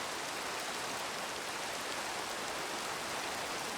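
Steady rain falls in a building video game, a dense, even hiss of drops that fills the whole stretch without a break, with no voices over it.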